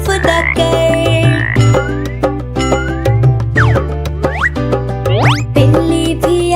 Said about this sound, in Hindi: मेंढक भी आया फुदक फुदक कर